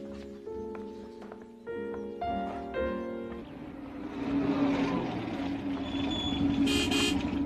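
A car horn gives several short toots in quick succession. A steady rumble of passing traffic follows, and a brief high whine comes near the end.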